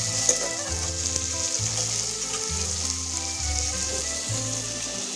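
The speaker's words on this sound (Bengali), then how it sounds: "এবার আমি ভালো মতন আরেকটু কষতে থাকবো।" Leftover rice fried with tomato, crushed ginger and grated carrot in a pan, a steady hissing sizzle broken by regular scraping strokes of a spatula, close and loud, with no talking.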